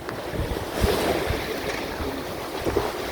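Wind buffets the microphone aboard a sailboat at sea while waves wash and slap nearby, a continuous rough rush of water and gusts.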